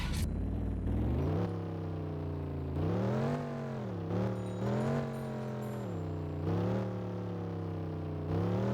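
A truck engine runs steadily nearby, its note rising and falling repeatedly as it drives off, with no talk over it.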